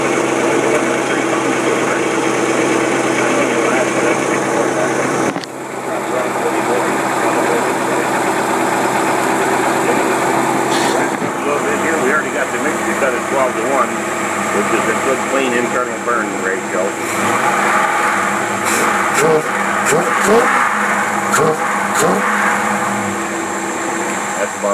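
Engine on a test stand running on a Holley 6213 spread bore double pumper carburetor, a steady loud idle with a sudden shift partway and later throttle rises, with some speech over it.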